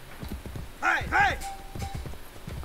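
Horse in Assassin's Creed: Brotherhood, the 2010 video game, trots with rhythmic clip-clopping hooves, broken by two loud whinnying neighs in the middle, while someone talks over it.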